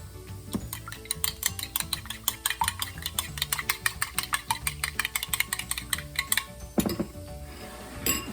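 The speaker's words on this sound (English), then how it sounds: "Let's start off by go ahead and mixing our egg." An egg beaten with a fork or whisk in a bowl for potato fritters, a fast steady run of bright clinks against the dish, then a pause and a single louder knock near the end.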